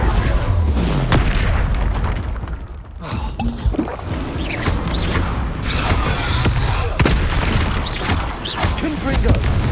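Fiery Confringo spell blasts in Hogwarts Legacy, heavy booming impacts amid dense, loud game combat noise, with voices heard in the mix.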